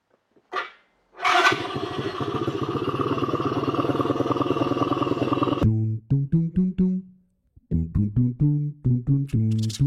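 A quad's engine is cranked with a newly fitted start/stop button: a long whirring starter crank, then a run of short sputtering pulses, a brief pause, and another burst of choppy cranking pulses, close and loud.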